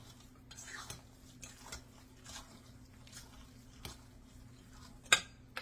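A utensil stirs a ground chicken meatball mixture with fresh parsley in a bowl, giving soft, faint, irregular squishes and light clinks against the dish, close and quiet with no talking.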